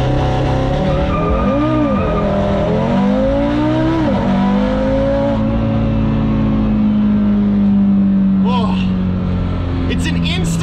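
Car engine pulling at about half to sixty percent throttle, a steady droning rise in pitch that holds and settles, with a voice talking over it and brief tire or mechanical chirps near the end.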